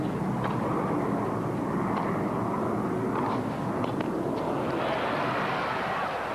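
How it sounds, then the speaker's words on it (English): Airplanes droning overhead near LaGuardia and Kennedy airports beside a tennis match, a steady broad engine rumble that swells slightly toward the end, heard alone without speech. "you'll hear that sound quite often today, the droning of airplanes"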